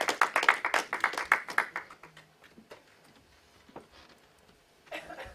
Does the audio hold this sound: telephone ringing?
no